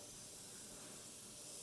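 A paint spray gun hisses at low pressure, a continuous broad, airy rush that holds steady throughout without breaks.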